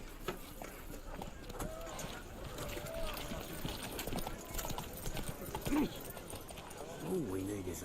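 Roach the horse gallops in The Witcher 3, hooves clip-clopping in a steady rhythm beneath game music and effects, with spoken dialogue running over the top.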